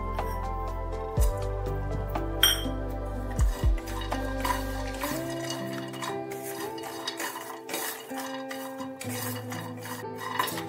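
Pistachios being dry-roasted and gently stirred in a pan for malai kulfi, with light scraping and occasional clinks of utensil against metal over soft background music.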